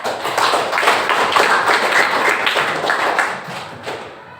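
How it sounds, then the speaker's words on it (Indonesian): Students in a school classroom clap for a classmate, a close, fairly loud burst of scattered hand claps that holds steady for several seconds and then thins out toward the end. "tepuk tangan buat Kira ya"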